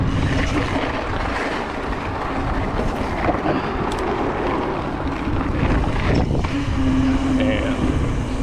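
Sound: wind blowing into microphone while mountain biking

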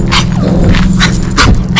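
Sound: dog barking

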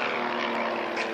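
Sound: airplane flying low overhead

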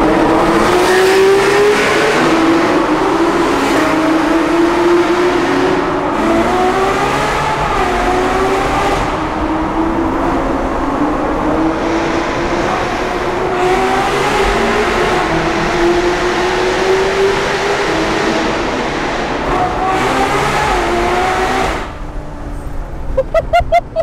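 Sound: Ferrari V12 engine revving

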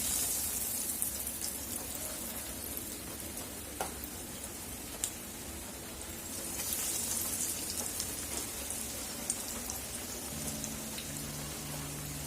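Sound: chicken cutlets frying in hot oil

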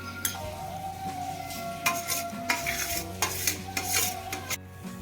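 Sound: stirring yogurt into spiced flour dough for thepla

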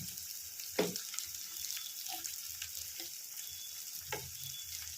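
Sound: marinated chicken added to frying spice paste

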